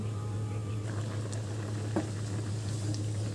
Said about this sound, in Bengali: এবার এটা একটু ফুটুক